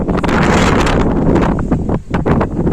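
Gusty wind on a village house balcony in Lapseki, Çanakkale blasts across the microphone in close, loud, rumbling bursts, briefly easing before surging again.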